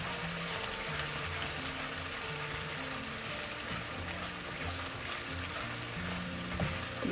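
Tomato masala for a fish curry sizzling in oil in a pan, a soft steady frying hiss with occasional stirring scrapes, heard quietly and alone with no talking.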